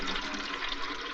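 Water pours steadily into a container while filling, a continuous close splashing rush with no voices.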